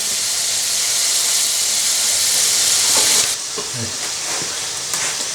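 Sandhill crane meat seasoned only with salt and pepper frying in a pan, a steady loud sizzle and hiss that drops a little partway through, with a few soft scrapes and clicks over it.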